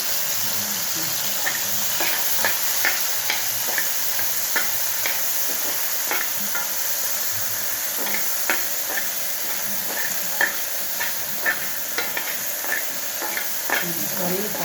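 Vegetables being stirred and fried in a wok-style kadai, with a steady sizzling hiss and regular sharp clicks of the spatula scraping the pan, close and moderately loud.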